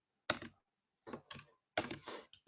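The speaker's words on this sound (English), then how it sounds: "if I start typing" Someone types code on a computer keyboard for a Spark with Scala coding session: short, close bursts of clattering keystrokes separated by brief pauses, with no voice over them.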